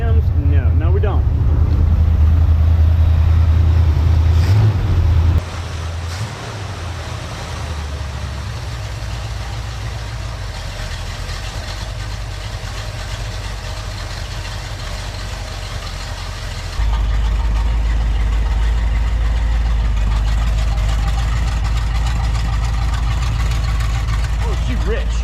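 A 1979 Chevrolet Corvette engine on a cold start, running rich at a loud, steady idle with a deep rumble that drops in pitch after the first few seconds and rises again later.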